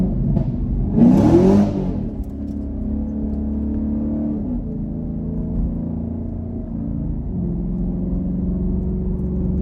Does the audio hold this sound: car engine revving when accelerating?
yes